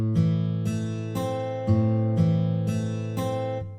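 Virtual acoustic guitar from a free software plugin, dry with no effects, playing a minor run of six plucked notes at an even pace, each ringing briefly before the next, close and clear.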